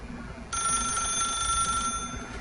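Telephone in the video game The Stanley Parable rings loud and steady, a continuous bright electronic bell tone that starts half a second in and holds to the end over faint background ambience.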